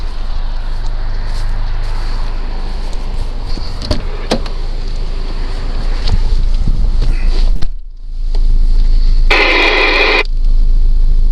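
Over a CB radio, a transmission comes in through a Midland LC59 magmount aerial: a steady hiss with crackles and faint muffled audio, a sudden dropout, then a short, loud burst of static.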